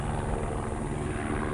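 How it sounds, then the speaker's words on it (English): A U.S. Customs helicopter flying over a South Texas ranch near the border, giving a steady, loud droning rotor and engine hum with no break. "U.S. Customs helicopters fly overhead all the time"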